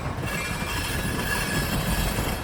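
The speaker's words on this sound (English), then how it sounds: "Did you hear that? Those wheels dragging? That's an old tanker." An old tanker railcar rolls along a Florida East Coast line near Fort Lauderdale, its dragging wheels letting out a thin, steady metallic squeal over the continuous low rumble and grind of the moving train.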